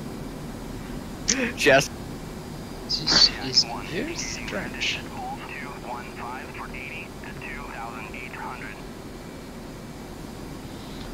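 A flight of two F-14 Tomcat jets taxiing in the DCS flight simulator gives off a steady, low engine drone beneath radio chatter and spoken voices.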